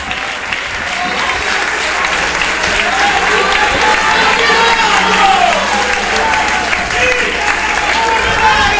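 A church audience applauds and cheers for Jesus at a RIVI 2018 gathering, steady loud sustained clapping from a large crowd with voices mixed in throughout.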